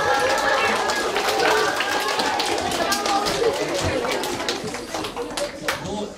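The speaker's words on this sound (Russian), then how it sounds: "Ваши аплодисменты." A concert hall audience applauds a conductor being welcomed to the stage, with steady claps that stay dense and then thin out toward the end, and some murmuring underneath.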